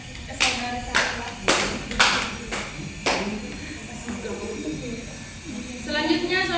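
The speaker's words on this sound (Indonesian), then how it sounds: "beri tepuk tangan pada saudaranya, saudara saya" A few people clap in a classroom for a student during a micro-teaching session. There are about six separate bursts of claps, close and moderately loud, over room noise, and faint talk comes in near the end.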